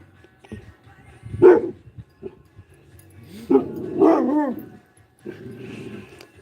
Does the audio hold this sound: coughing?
no